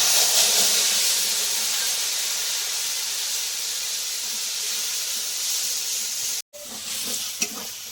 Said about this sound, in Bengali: ফোড়নে দিয়ে দেবো তেজপাতা, একটু কাসুরি মেথি, আর এই যে মশলার পেস্টটা এর মধ্যে দিয়ে দেবো।